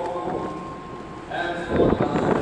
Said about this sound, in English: it's way too windy for me to stand up there